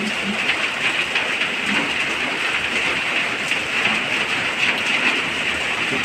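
Heavy rain pours in a dense, steady hiss with no break, loud and close, and no voices are heard over it.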